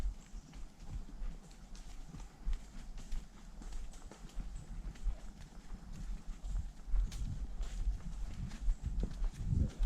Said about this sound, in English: A lot of the horses like to put a little pep in their step heading up that hill.